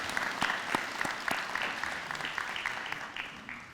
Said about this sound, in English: Please join me in a round of applause for the KU Foundation Board.